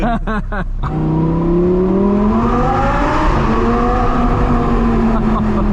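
A high-revving Audi R8 V10 engine with an IPE custom exhaust roars up through the gears, loud and close, its exhaust note climbing steadily after a brief burst of revs.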